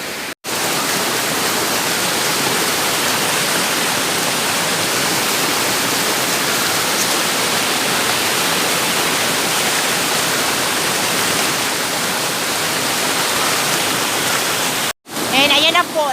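The Tamadong Falls pour with strong, heavy water, a loud, steady roar that fills the whole stretch and drops out only briefly near the end.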